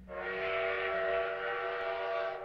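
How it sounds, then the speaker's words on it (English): A train whistle in the Zelle video game sounds as the train arrives, one long sustained multi-tone blast, loud and steady, heard alone without speech. "And here comes the train. Should be here soon."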